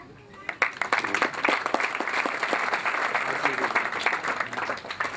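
An audience at a Weißbier Frühschoppen event applauds to welcome guests, steady full-room clapping that starts at once and keeps going throughout. Faint voices are present underneath.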